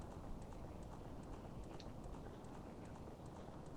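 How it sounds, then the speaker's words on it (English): A horse gallops in Zelda: Ocarina of Time, its rapid hoofbeats soft and faint beneath a steady noisy background, keeping an even running rhythm throughout. "Man, the horse ran through fire."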